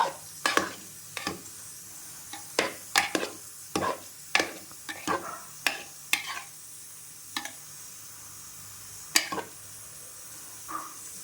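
A pongal mixture is mixed in a pan with a spoon, about a dozen distinct scraping strokes in an uneven rhythm over a low, steady sizzle, close and fairly loud.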